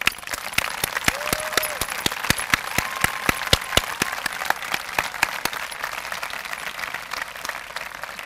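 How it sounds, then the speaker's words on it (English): Guests at a school reception applaud the school staff, a steady, fairly dense round of clapping with sharp individual claps standing out, lasting several seconds without talk. "would you please join me in your appreciation through applause to that staff"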